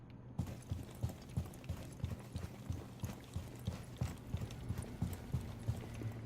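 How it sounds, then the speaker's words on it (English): Player footsteps in Rainbow Six Siege on PS4, a steady, evenly spaced run of thudding steps with a clip-clop quality, close and moderately loud over a low background, no talk. "take a listen to my footsteps right now"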